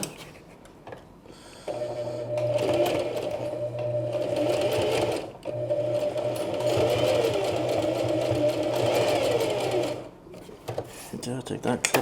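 A sewing machine stitching a small coin purse runs in two steady, close motor hums of several seconds each with a short break between, and a voice talks briefly before and after.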